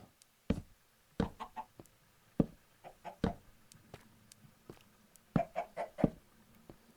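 Scattered soft clucks and short taps from chickens in Minecraft, irregular and fairly close, with quiet gaps between the bursts.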